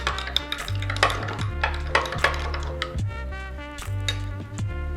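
A spoon clinks against a glass as water is stirred into an instant fennel-seed sherbet with basil seeds, a series of light, repeated taps and swirls over a soft, steady background hum.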